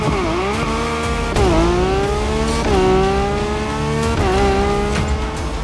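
A Lamborghini Revuelto accelerating in a racing video game, its engine screaming hard and loud through repeated upshifts, each gear change dipping the pitch before it climbs again.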